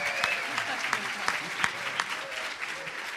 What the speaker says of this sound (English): I want to give a big round of applause to our journalists who asked the questions tonight